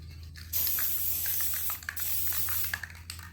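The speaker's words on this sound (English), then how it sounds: "You need some lube spray so that it doesn't stick to it." Lube spray sprayed onto a metal ingot mold, heard as a close, steady hiss that runs for nearly three seconds, with brief breaks and small rattles, over a low electrical hum.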